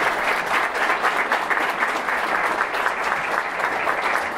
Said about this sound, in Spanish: vamos a dar un fuerte aplauso por este acto